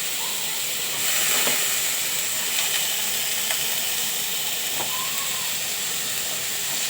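Green beans sautéing in a pan give a steady, even hiss of sizzling that runs throughout at a moderate level, with a few faint clinks and no speech.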